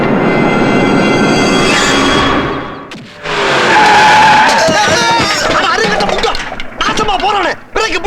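A car skids hard under braking, tires squealing loudly in a long sustained screech that breaks off, then resumes with rough scraping squeals and rumbling; close and intense, with shouting voices mixed in toward the end.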